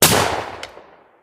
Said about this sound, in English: at least you're going to see me shoot at the target